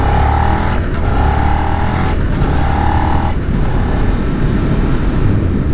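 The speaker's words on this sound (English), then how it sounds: "I'm still working on trying to get the rev match down for downshifting" A car engine blips and revs while downshifting for a rev match, steady and loud, rising and falling in pitch several times over a constant road drone.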